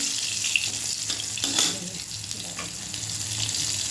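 Cut chilli and black cumin frying in oil, a close, steady sizzle with occasional sharp pops and light stirring scrapes throughout.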